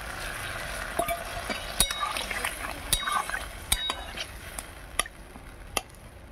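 Water poured into a hot pan of okra curry, a bubbling sizzle with repeated sharp clicks and scrapes of a utensil against the pan.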